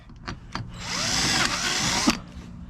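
A power drill bores a long hole in a boat during a headlight mount install, whining steadily for about a second and a half after a few short bursts, with a clunk near the end.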